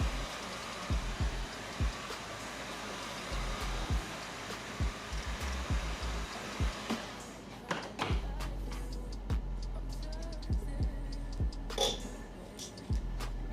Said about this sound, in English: And then you're gonna basically put it down and blow dry it.